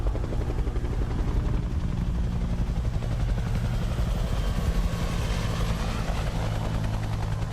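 A helicopter in the video game Stalker 2 thumps steadily with a heavy, low rotor drone, loud and continuous with no pauses and no talking over it.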